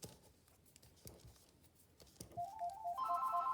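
A telephone ringtone for an incoming call begins partway through, a repeating electronic melody that grows louder, following a few soft taps and handling noises in a quiet room.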